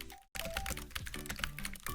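Close, rapid typing on a computer keyboard: dense, irregular key clicks that run almost continuously after a brief pause near the start.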